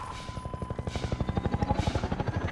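Enemy helicopter in the video game Half-Life 2, its rotor beating in a fast, even chop that grows louder and closer over a couple of seconds, with no talk over it.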